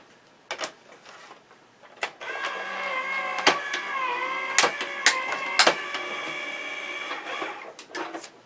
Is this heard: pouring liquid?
no